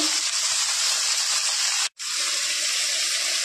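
Radish sizzles in hot mustard oil in a pan with cumin, nigella seeds and onion, giving a continuous loud frying hiss that cuts out for an instant partway through before resuming.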